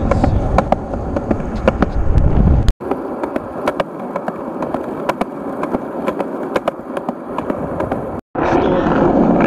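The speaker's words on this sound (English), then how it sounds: "skateboarding it is." Skateboard wheels rolling over pavement, a loud continuous gritty rumble broken by two brief silent gaps, with ticking clacks from cracks and joints.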